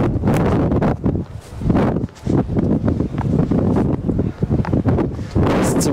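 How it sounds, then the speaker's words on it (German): Gusty wind buffeting the microphone outdoors in Sicily in February, loud rushing bursts that rise and fall irregularly. "Das ist ziemlich windig."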